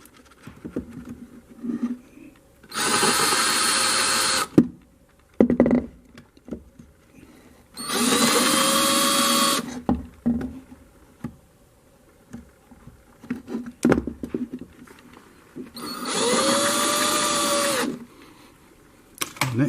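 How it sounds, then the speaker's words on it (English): A power drill fitted with a countersink bit bores into screw holes in boat gel coat on a 1999 Sea Ray 180. It comes in three steady whirring bursts of about two seconds each, with quiet handling noises between them. "So I am going to use a countersink on the holes"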